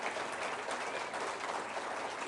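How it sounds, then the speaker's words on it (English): Dense, steady clapping from a large crowd at the Reform UK conference in Essex, fairly loud and continuous without pauses or voices. "You can clap for that."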